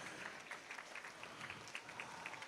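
Applause for swimmer Julian Aldred at a short course swimming championship session, a steady wash of clapping from a modest crowd throughout with scattered sharper claps standing out.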